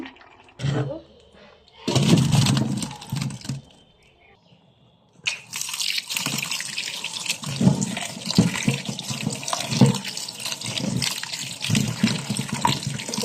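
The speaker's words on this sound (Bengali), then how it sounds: "ঠান্ডা জল দিয়ে একটু নেড়ে চেড়ে ধুয়ে নিচ্ছি, যাতে একটার সঙ্গে একটা লেগে না যায়।" Cold tap water splashes over boiled pasta being rinsed and stirred, bursts of running water broken by a short quiet gap, then a long continuous stream with clattering and sloshing.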